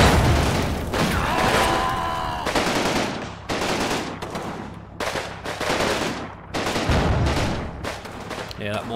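Mortar and gunfire in Combat Mission Red Thunder, a WWII Soviet battle: repeated loud impacts and bursts of shots in an irregular rhythm, dense and close, with brief speech-like sounds mixed in.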